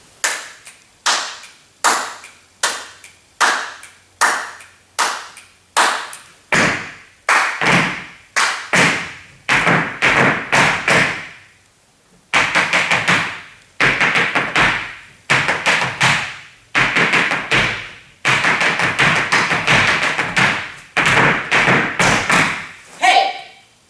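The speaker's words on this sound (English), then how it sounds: "Let's try and do it slowly, starting with the claps." Irish dance claps and foot stamps practised slowly for a flashmob routine, a loud, even series of single sharp hits that grows into denser rhythmic runs, with brief pauses between sets.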